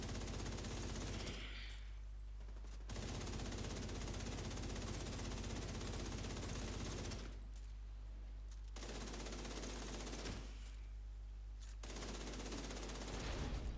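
Sustained automatic gunfire from the video game The Division 2 during a master-difficulty boss fight, loud and continuous bursts broken by several short pauses, no talking.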